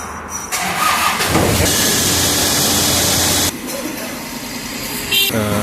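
A Toyota car engine starts after a battery swap, with the starter cranking briefly before the engine catches into a loud, steady mid-pitched run, then drops to a quieter idle, recorded up close.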